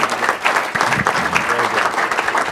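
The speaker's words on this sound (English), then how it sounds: "Let's have a round of applause." Audience applause fills a city council meeting in Chino, a steady loud patter of many hands clapping nearby, with a voice speaking briefly over it.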